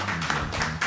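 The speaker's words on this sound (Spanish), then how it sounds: "démosle un aplauso a Viviana" Applause from a small studio group during a casual talk show, a short burst of clapping that goes steadily for under a second, fairly close and moderately loud.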